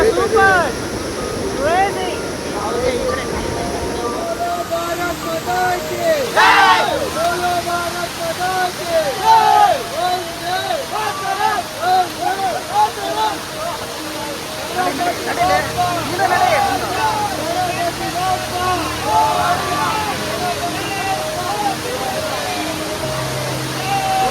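Steady rushing roar of water at Amboli Falls, a broad continuous wash heard from nearby while people talk over it.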